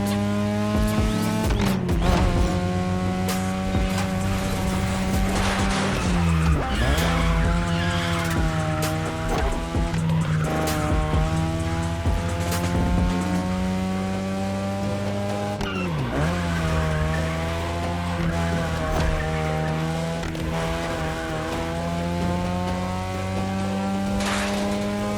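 Street racing cars in The Crew Motorfest, a continuous loud engine drone with repeated long tire squeals and skids as the car slides through corners, sustained throughout with no talking.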